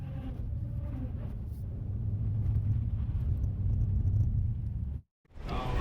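A petrol car cruises along a road on a trip, with a steady, low, rumbling drone heard from inside the cabin that cuts out briefly near the end.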